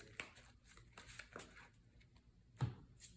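Playing cards are shuffled by hand during a solo tabletop card game, giving soft riffling and flicking sounds in a few separate bursts, quiet and fairly close, with one sharper tap or snap near the end and no talking.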